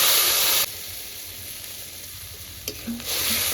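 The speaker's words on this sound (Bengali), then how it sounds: "এবার পরিমাণ মতো জল দিয়ে দিচ্ছি" Yam and potato pieces frying with green chilli hiss loudly, then water is poured into the pan and the sizzle drops to a softer steady bubbling before rising again near the end; close, no talk.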